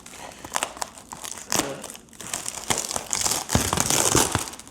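Paper print packaging being cut open along the side, giving a close, continuous run of crinkling, crunching and tearing paper with uneven bursts that swell louder toward the end.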